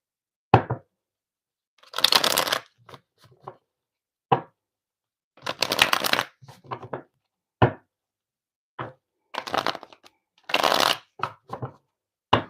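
Tarot cards being shuffled in several loud, close riffling bursts separated by short silences, with a few sharp taps and knocks of the deck in between, no speech.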